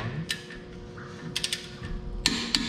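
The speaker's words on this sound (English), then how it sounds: "Go with a torque wrench" A torque wrench tightening wheel spacer lug nuts on a 10th-generation Honda Civic Si: scattered sharp metallic clicks and ratcheting ticks, close and fairly quiet, with a couple of louder snaps near the end.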